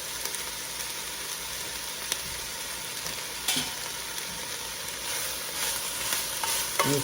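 Chopped vegetables and habanero stirred while frying in a pot for spicy black bean soup, a steady sizzle with scraping spoon strokes and occasional louder clinks against the pot.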